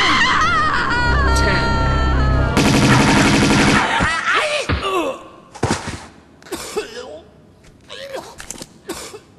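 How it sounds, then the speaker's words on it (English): Bursts of rapid gunfire from a video game crackle loudly in the opening seconds amid music and effects, followed by gasps, cries and scattered vocal sounds. "That was gunfire."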